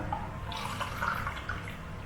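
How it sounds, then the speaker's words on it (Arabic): Water pours into a cooking pot holding chickpea flour, a continuous, soft, splashy trickle that stays fairly quiet and steady for about two seconds with no speech. "وبعدها نبدي ننزل المي"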